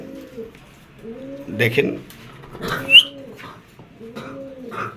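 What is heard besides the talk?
Spanish chorra pigeons cooing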